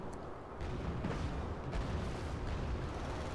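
T-72 tanks fire in a video game battle, with dull, rumbling booms and a muffled, continuous battle roar at moderate distance, fairly faint and without clear separate shots.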